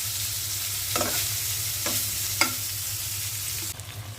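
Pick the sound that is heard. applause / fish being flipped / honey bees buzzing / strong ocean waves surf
fish being flipped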